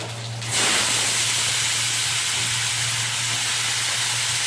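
Potatoes dropped into hot oil with turmeric in a wok, giving a steady, loud broadband hiss and sizzle that swells at the start and then holds evenly, with no voices.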